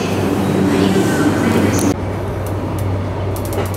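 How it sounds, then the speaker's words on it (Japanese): Loud, steady rumble of a Japanese commuter train departing Utsunomiya Station, with a constant low drone, shifting in tone partway through, with faint clicks above. "列車は宇都宮駅を出発。"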